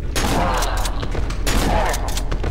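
Repeated shotgun blasts in the horror video game Cry of Fear, loud and close, several sharp booming reports in quick succession with no talking.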